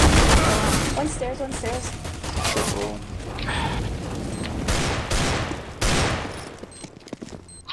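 Dense bursts of automatic gunfire and single shots in a Counter-Strike: Global Offensive match, loud and rapid, crackling throughout with sharp impacts, while a player speaks briefly over the shooting.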